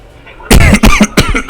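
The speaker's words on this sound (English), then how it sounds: "I still have a bit of a cough, but it's not as bad." One person gives a close, loud burst of several harsh coughs in quick succession after a brief quiet moment.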